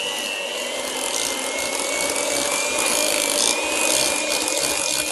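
Cookie dough with added vanilla extract mixed in a bowl, a close, steady scraping and rubbing churn that runs continuously with a faint whine underneath, and no talking.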